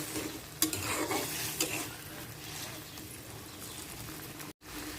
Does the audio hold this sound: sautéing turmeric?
yes